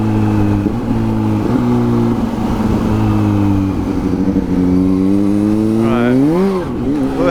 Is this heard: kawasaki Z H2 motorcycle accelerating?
yes